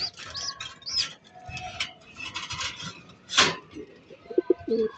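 Doves or pigeons coo in a cluttered outdoor setting, several soft calls mixed with chirps and a few sharper bird notes, moderately close and unbroken by talk.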